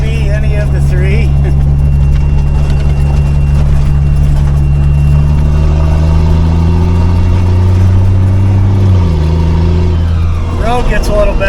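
A repaired 5-ton military truck climbs a central Utah mountain road, its diesel engine a loud, steady low drone that shifts pitch near the end as it changes gear, with a voice talking over the rumble.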